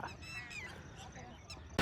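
Honking bird calls, goose-like, sound in a quick series of short cries, fairly close, with a sudden loud thump at the very end, at Ramdara temple near Pune during the rainy season.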